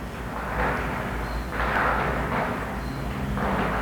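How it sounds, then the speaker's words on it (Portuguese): Fireworks go off at a distance in a steady run of dull booms and rumbling bursts, swelling and fading over a few seconds with no voices. "Isso são fogos"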